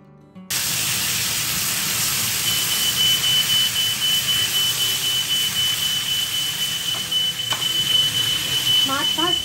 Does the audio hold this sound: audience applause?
no